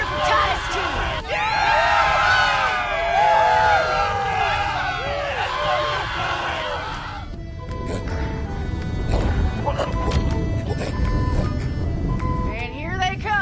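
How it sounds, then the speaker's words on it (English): Crowd cheering and hubbub during a Borderlands 3 game, a dense, loud roar of voices for about seven seconds that gives way to scattered shouts, thumps and clatter. "Let's have a cheer for Titus, too!"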